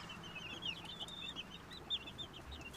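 Light and dark Brahma and Seabright baby chicks giving thin, high repeated peeps, a soft cluster of faint chirps over a quiet background with no talk.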